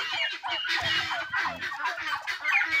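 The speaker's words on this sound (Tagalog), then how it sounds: "Kasi ito yung gansa natin." A three-month-old goose on a farm with peafowl, giving a run of close, nasal honking and gobbling calls that repeat in quick bursts.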